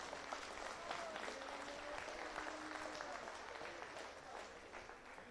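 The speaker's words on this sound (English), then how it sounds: "we need to give these young members a round of applause in this heavyweight division" Audience applause at a junior steer show in the heavyweight division, a steady wash of clapping from a crowd heard at a distance and fairly faint, continuing evenly throughout.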